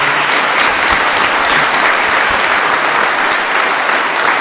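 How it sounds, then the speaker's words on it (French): Loud, dense applause from an audience for a speaker at a nursing and healthcare talk, a continuous close wash of many hands clapping together without a break. "Je vous invite à applaudir John."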